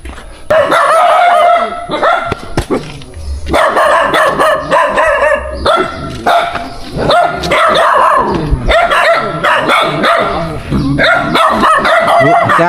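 Several dogs bark loudly and repeatedly close by in a jungle setting, overlapping yips and woofs filling the scene, with voices talking in between.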